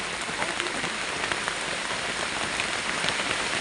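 Heavy rain pours down in a steady, dense hiss of drops drumming on surfaces nearby, continuous and loud throughout with no talk.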